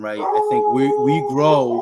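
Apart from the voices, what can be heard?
dogs barking and howling in the background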